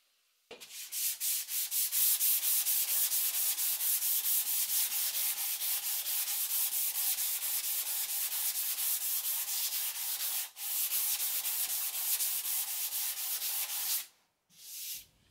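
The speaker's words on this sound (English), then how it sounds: "I always hand sand with 220 as well." Steady, rhythmic back-and-forth rasp of 220 grit sandpaper worked by hand over a wooden wall surface, close and continuous for about thirteen seconds with one brief pause.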